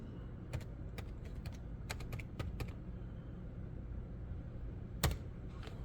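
Keys clatter on a computer keyboard as a folder name is typed, quick bursts of clicks in the first three seconds and one more sharp tap near five seconds, close and faint over a low steady room hum.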